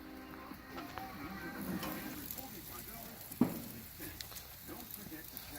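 Ribs cooking over a campfire at a mountain deer camp, a soft fizzing sizzle with light crackles and one sharp pop midway, fairly quiet and close, with faint outdoor background.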